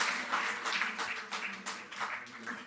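A crowd applauds at a Delhi government ceremony where athletes receive financial awards. The clapping is thick but moderately quiet, rising and falling in waves.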